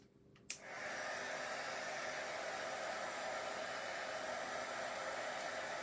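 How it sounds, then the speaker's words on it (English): A heat tool kicks on after a faint click and blows hot air in a loud, steady rushing whoosh that holds evenly to the end, with no talking. "heat tool"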